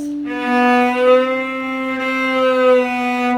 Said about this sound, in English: So the smooth slide shift is the first one on your chart.